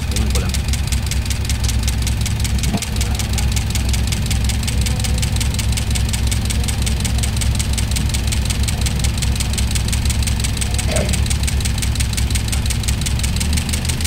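A Toyota Vios engine runs noisily after an overhaul, a loud, steady close idle with a dense mechanical clatter and rattle throughout, with faint voices in the background.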